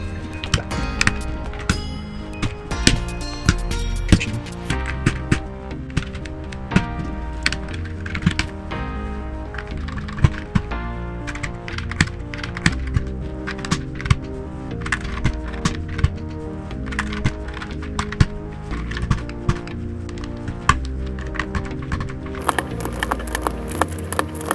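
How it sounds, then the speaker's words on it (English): A custom-built GMMK 2 mechanical keyboard is typed on steadily and close up, producing a dense run of deep, muted clacks with occasional louder keystrokes and no talking. "so now we've got our keyboard"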